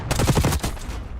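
Gunfire in a shooter video game, a loud close burst of rapid shots packed tightly together, ringing out briefly before fading.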